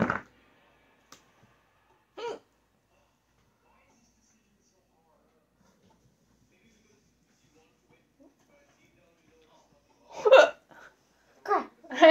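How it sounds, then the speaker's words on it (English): Sharp, isolated hiccups break an otherwise quiet room, with a few spaced out early on and a cluster of short voiced bursts near the end, close and fairly soft. "The hiccups."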